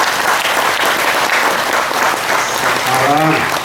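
Loud applause from an audience at a yoga teaching session, dense clapping throughout with a voice briefly heard near the end.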